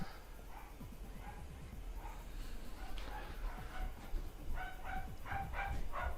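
A dog barks and yips repeatedly at a distance, the barks growing more frequent toward the end over steady background noise.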